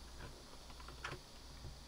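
Soft, quick computer keyboard key presses, Ctrl and Z, tap faintly over a steady background hum, a few clicks in close succession.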